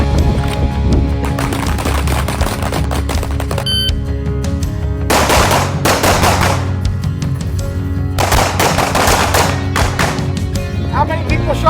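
Sharp gunshot reports from pistols at an outdoor shooting range in Newville, Pennsylvania, with several loud broadband bursts and clusters of shots over steady background noise, and voices talking faintly in between.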